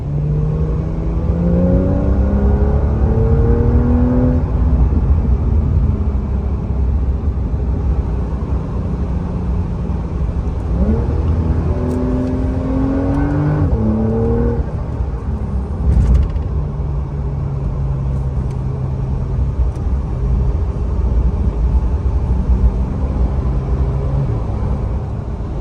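A 2025 Porsche 911 drives and accelerates, its engine rumble loud and steady from inside the car, with rising and falling revs through several gear changes over a constant road roar.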